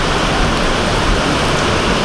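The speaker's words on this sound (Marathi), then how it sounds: "पाऊसच खूप आहे" Heavy monsoon rain pours down at a Konkan Railway station platform, a dense, unbroken roar of water that stays loud and even throughout without any voices.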